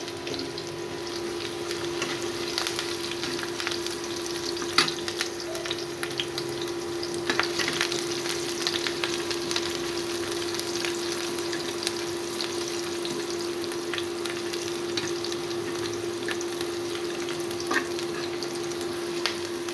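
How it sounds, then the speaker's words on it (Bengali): Khichuri frying with green chilies in a pot, stirred continuously, giving a steady close sizzle with scraping stir noises over a constant background hum. "আমি ভালো করে এটা নাড়তে থাকবো"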